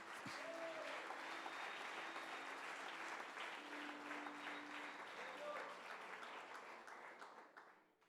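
Steady congregation applause fills a church, holding strong for several seconds before fading away near the end, with a few voices faintly mixed in.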